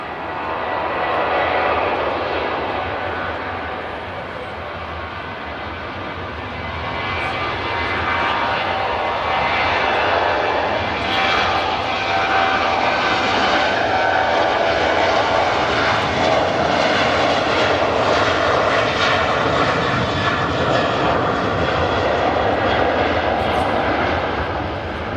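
A Ryanair jet airliner departing for Dublin roars loudly and continuously, its engine noise swelling and holding steady for the whole stretch with no talk over it.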